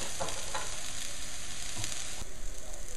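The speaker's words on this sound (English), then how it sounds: "I'm going to put my shallots and chilies in here. I'm going to fry them up as well" Shallots and chilies fry in a pan for a beef lettuce-wrap filling, giving a steady close sizzle with occasional stirring scrapes and crackles throughout, no voices.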